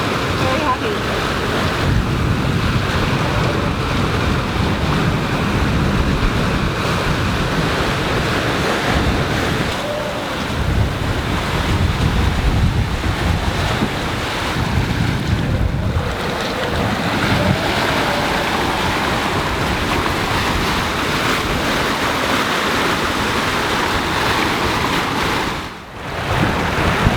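Strong, steady wind roars over the microphone as waves rush and wash past a sailboat crossing the Atlantic in rough downwind conditions, loud and continuous throughout.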